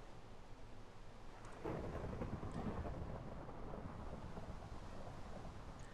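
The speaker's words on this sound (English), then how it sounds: "Fucking rain. Ruining my recording!" Steady rain hisses in Minecraft as a low rumble of thunder swells partway through and lingers, faint and without any voices.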